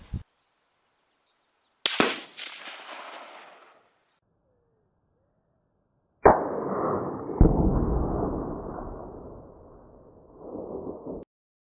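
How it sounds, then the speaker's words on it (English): A 1903A4 rifle fires at an outdoor range: one sharp loud crack with a decaying echo, then after a pause a second heavy boom rolling into a long rumble, with a few faint knocks. "after this shot."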